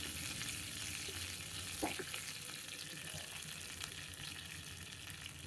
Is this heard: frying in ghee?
yes